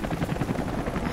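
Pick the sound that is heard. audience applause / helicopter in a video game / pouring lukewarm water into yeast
helicopter in a video game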